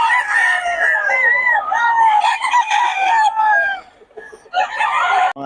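Roosters at a gamefowl yard in Bocaue crow loudly and close by, one long wavering crow following another, with clucking fowl around them and faint talk in the background.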